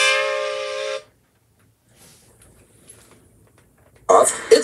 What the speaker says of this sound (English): Duck's whistle appeared several times